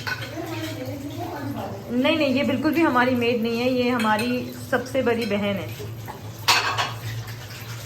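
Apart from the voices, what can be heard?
dishes being washed, pots and utensils clinking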